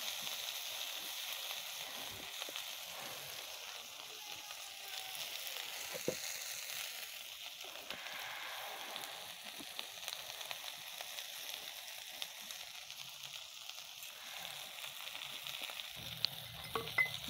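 Green tomatoes frying in a pan, a soft steady sizzle with scraping stirs and occasional faint clicks running the whole way through, quiet and close, no talking.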